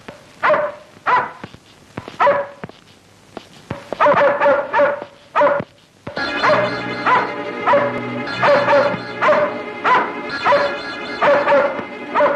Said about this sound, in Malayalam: പട്ടി അദ്ദേഹത്തിന്റെ നേരെ കുരച്ചു ചാടി.